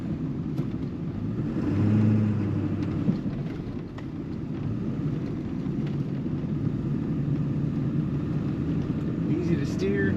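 A 2001 Ford Excursion Limited with a Power Stroke diesel drives along steadily, a loud low engine rumble and road noise rising briefly as it accelerates, continuous throughout with no pauses.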